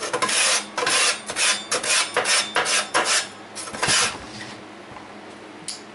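A putty knife scraping in rapid repeated rasping strokes, loud and close at first, then tapering into fainter scrapes with no talk.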